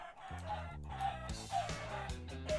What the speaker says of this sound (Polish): Czemu kurczaki się pojawiają nie tu, gdzie powinny?